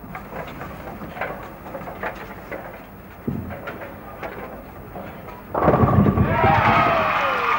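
A bowling ball crashes into the pins for a strike on lane 16 at the 1969 National All Star final, a sudden loud burst of clatter late in the clip over steady arena crowd noise and a commentator's voice.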